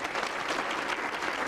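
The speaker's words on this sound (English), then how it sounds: "round of applause" A conference audience at a Houston landscape event claps steadily, a thick, even wash of applause heard up close with no voices over it.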